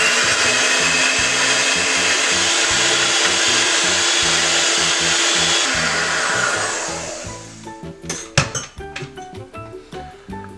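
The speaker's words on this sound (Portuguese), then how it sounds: "eu vou transformar as claras em neve. Pode ser com a batedeira, com o fouet, do jeito que você quiser." An electric mixer whipping egg whites to stiff peaks for tiramisù, a loud, steady motor whir for about seven seconds that then winds down, followed by scattered clinks and taps against the bowl.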